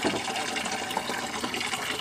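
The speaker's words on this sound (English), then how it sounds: "the water filling up the bucket." Water pouring steadily into a bucket that serves as the counterweight of a pulley-and-rope chicken coop door opener, a continuous rushing fill without pauses.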